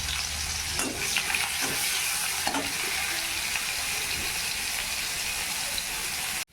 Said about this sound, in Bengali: এবার পেঁয়াজগুলো একেবারে লাল লাল করে ভাজা হয়ে গেছে